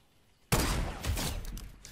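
A sniper shot in Fortnite hits as a single abrupt, loud crack out of near silence, then rolls into a sustained booming echo and trailing noise.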